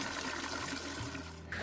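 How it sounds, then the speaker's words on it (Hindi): Spring water pours steadily from a cow-mouth spout into a pool at a temple complex, a continuous close rushing splash with no pauses. "परिसर में गौमुख से निकलने वाला झरने का पानी एक कुंड में एकत्रित होता रहता है।"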